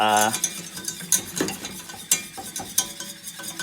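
A wooden spoon stirs flour into a pan, with repeated scraping and knocking clatters against the pan in an uneven rhythm and a brief voice at the start.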